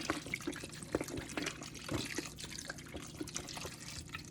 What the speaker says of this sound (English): So I am going to top it with water, just enough